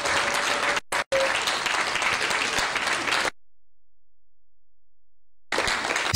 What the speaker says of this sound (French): D'un nom accueilli par une salve d'applaudissements nourris